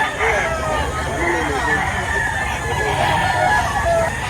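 A rooster crows amid a busy chicken market in Lipa, Batangas, its call rising over steady crowd babble and nearby talk, with clucking fowl close by.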